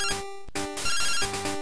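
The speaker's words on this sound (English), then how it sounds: "get a phone call from Professor Elm" A phone ringing in the Game Boy game Pokemon Gold, a chiptune ringing trill in short repeated bursts with a brief gap between them.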